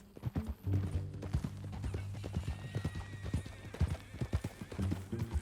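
Steady clip-clop of horse hooves in an even walking rhythm, close by, with a horse whinnying and a low engine-like drone underneath.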